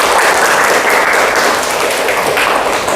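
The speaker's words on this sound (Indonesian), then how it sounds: "Nah, tepuk tangan untuk kelompok 1." A classroom of students applauding their groups during a school lesson: dense, continuous clapping from many hands that holds an even loudness from start to finish, close and full.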